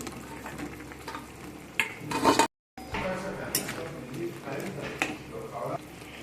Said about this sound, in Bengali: পকোড়াগুলো দিয়ে ভালো করে একটু মিশিয়ে নেব